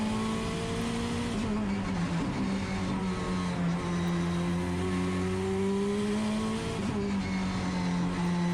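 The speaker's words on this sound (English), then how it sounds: "It's incredible seeing these cars go through there without lifting off the throttle, isn't it?" A 1,000 horsepower rear-wheel drive time attack car is held at full throttle around Sydney Motorsport Park, its engine a loud, sustained drone with a steady pitch that dips and climbs slightly, heard from nearby without talk.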